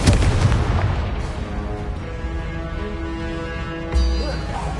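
A Confringo blasting spell from a wizard video game goes off as a booming explosion at the start, then a second thump near the end, both over a steady tonal musical backdrop.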